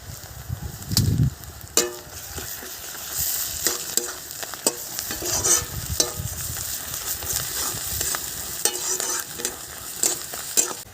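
Garlic and ginger paste frying in a pan sizzles continuously while a utensil stirs and scrapes it in irregular strokes, with sharp clacks against the pan, close and fairly loud.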